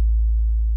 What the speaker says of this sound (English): when you go higher up, it's just that sine wave sound,